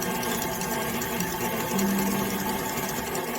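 An electric stand mixer whirs steadily as it beats semolina cake batter, a constant close mechanical drone with a brief higher-pitched swell partway through.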